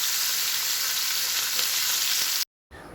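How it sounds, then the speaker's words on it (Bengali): Fish frying in a pan gives off a loud, steady, close sizzle that fills the clip, then cuts to a brief silence near the end before the frying noise returns. "এই যে মাছ ভাজা বসিয়ে দিয়েছি"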